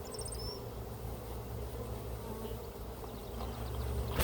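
Honey bees buzz in a steady, close, moderately loud drone during a hive inspection, with a few faint higher chirps early on.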